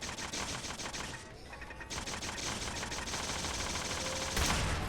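A gun fires during a fight with an enemy in the video game Fallout 4, with rapid, repeated shots in a dense, steady stream and a heavier hit near the end.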